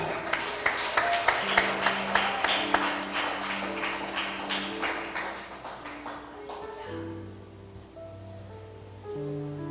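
A church congregation claps in a steady rhythm for several seconds over sustained musical tones, then the clapping fades out while the music carries on.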